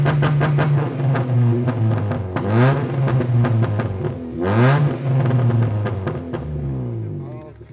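A Honda Brio Satya fitted with launch control revs its engine hard in repeated rising and falling bursts, the pitch climbing and dropping close by, while people talk over it.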